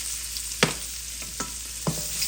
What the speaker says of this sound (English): Let's go ahead and add our onions.